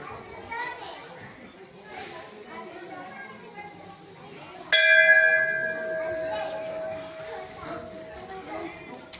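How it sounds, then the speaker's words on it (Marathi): Children chatter and play nearby at a crowded temple, then a bright temple bell rings out loudly midway and hums as it slowly fades under the continuing voices. "सगळ्या घंट्या वाजवल्या"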